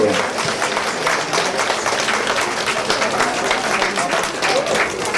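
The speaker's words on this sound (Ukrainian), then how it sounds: "Наші оплески цьому чудовому урочистому хвилюючому моменту" Dense, steady applause from a crowd at a village anniversary celebration in Mala and Velyka Roztoka, sustained and fairly loud throughout, with a faint murmur of voices mixed in.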